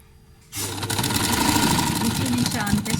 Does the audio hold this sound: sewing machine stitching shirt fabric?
yes